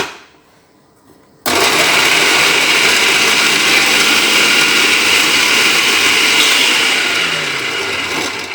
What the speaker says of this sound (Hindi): सबसे पहले चॉपर में इसे जो है प्याज और पुदीना वगैरह ये डाल के हम इस तरह चॉप करते हैं